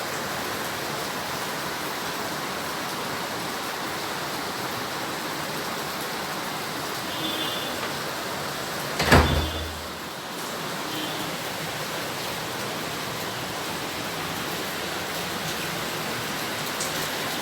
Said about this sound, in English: it's raining heavily. It's raining real heavy.